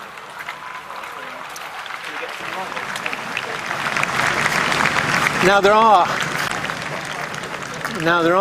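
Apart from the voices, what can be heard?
spontaneous applause from crowd outside Buckingham Palace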